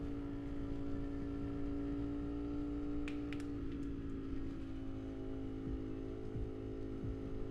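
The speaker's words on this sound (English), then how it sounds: "You can hear my motorcycle." A motorcycle engine runs at a steady idle, a continuous low droning hum with a few brief clicks partway through, heard alone.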